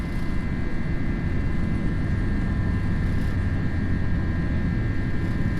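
Simulated Airbus A321 in Finnair livery climbing out of Helsinki in a flight simulator, a steady, droning engine roar with a faint tonal whine holding constant throughout, no voices.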